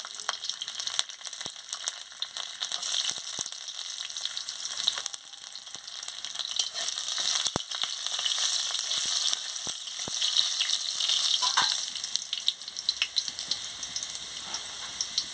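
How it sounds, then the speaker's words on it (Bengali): Chopped garlic sizzles steadily in hot oil with nigella seeds and dried chili, a loud, close, continuous frying hiss with scattered crackles and pops throughout. "তেলটা গরম হয়ে গেছে, কালো জিরে আর শুকনো লঙ্কাটা দিয়ে দিচ্ছি। এবার আমি রসুনের কুচিটা দিয়ে দিচ্ছি।"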